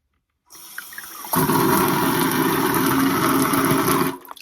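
A Brondell Fresh Spa bidet sprays water in a steady hiss. It starts softly, swells into a strong, close spray after about a second, holds for a few seconds and then cuts off.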